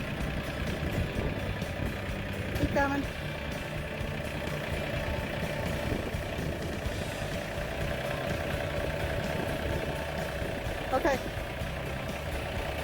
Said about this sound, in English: It's way too heavy to move by hand, so we do it by the tractor.